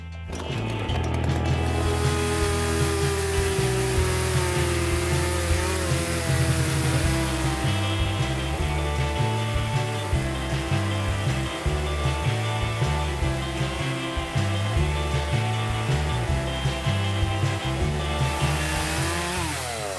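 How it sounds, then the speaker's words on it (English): A gas chainsaw and a battery chainsaw run continuously while cutting logs, a loud steady engine whine with rhythmic load changes as the chains bite through the wood. "we're going to fire them up and see how long they cut for"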